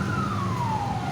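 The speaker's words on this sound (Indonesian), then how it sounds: "Mobil damkar datang." A fire truck siren wails as the engine arrives at a building fire, the second floor of the civil registry office in Palembang. The siren sweeps steadily downward over loud traffic and street noise.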